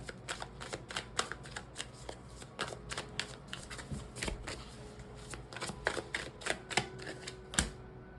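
Tarot cards being shuffled and pulled, a long run of crisp, close card snaps and flicks in an irregular rapid rhythm, fairly quiet and with no talking.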